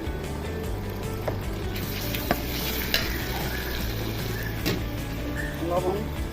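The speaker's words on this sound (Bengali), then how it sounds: "এখন আদা রসুন বাটা দিব" Ginger-garlic paste added to frying onions in a hot pan gives a continuous close sizzle with occasional stirring knocks and clinks, while a voice talks faintly underneath.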